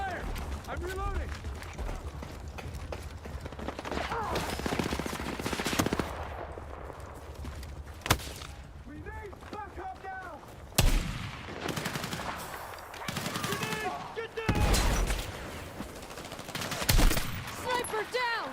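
Sustained automatic gunfire and single shots in the Battlefield video game, loud bursts repeating throughout with brief pauses, mixed with in-game voices shouting under and between the shots.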